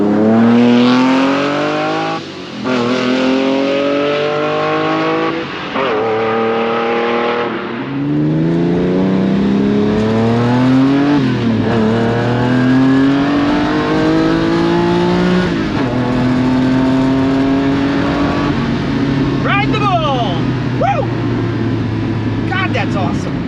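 A Lamborghini Countach's engine revs hard at full throttle, climbing through rising pitch sweeps with gear changes between pulls, loud and close from inside the car, with some talk at moments.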